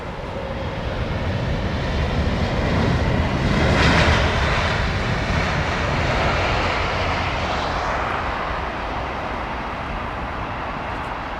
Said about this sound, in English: Is the aircraft moving as well?